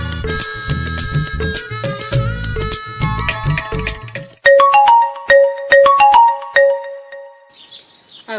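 A phone ringtone plays loudly during an outgoing call, a bright repeating chime melody that comes after a busier musical stretch, with no talking heard.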